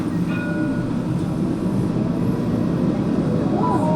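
Montpellier TAM line 2 tram number 2054 pulling away from Lacadie station toward Sabines, a steady loud rumble and rolling hum heard from onboard, with faint squeals and high tones drifting through.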